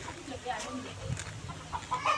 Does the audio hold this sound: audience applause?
no